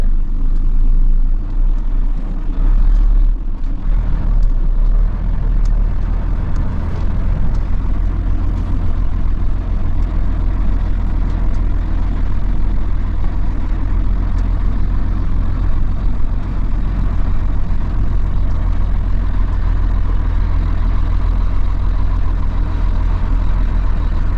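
A heavy truck's diesel engine drones loud and close with a deep, steady rumble as it moves off in first gear, holding a constant low throb throughout with no voices.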